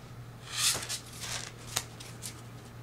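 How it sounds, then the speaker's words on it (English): Plastic Copag playing cards are riffle shuffled with a quick crisp fluttering burst, then a softer second riffle and bridge, quiet and close, with a faint hum underneath. "You can do nice riffles with it. It shuffles very nice."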